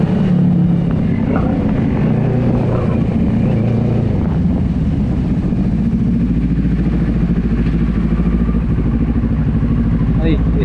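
A Yamaha Sniper motorcycle fitted with a big-bike exhaust idles close by. It sends out a loud, steady low rumble with a throaty pulse that lasts the whole time, and voices are heard faintly in the background.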